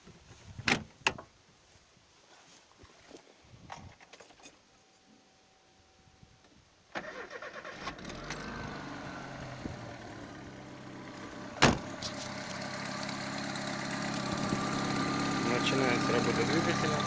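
A car engine, running an inverter as a backup power source, cranks and catches after some clicks and handling noises, then settles into a steady idle that grows slightly louder, with brief speech near the start.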